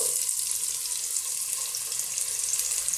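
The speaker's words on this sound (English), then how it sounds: "We're going to start off by dropping in our onions." Onions dropped into a pot of hot sunflower oil for a vegan carrot and coconut soup give a steady, bright sizzle and hiss, close and continuous, with no talking.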